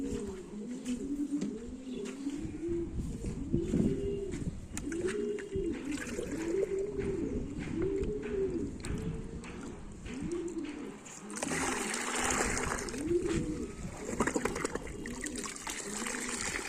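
Pigeons coo steadily and continuously close by, a dense overlapping flock rumbling through the whole stretch, with a trickle of water and rustling rising toward the end; no one speaks.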